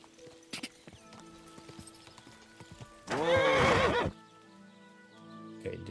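In the medieval video game Kingdom Come: Deliverance II, a horse's hooves clip-clop irregularly, and then a loud, close whinny lasts about a second before the hoof sounds resume.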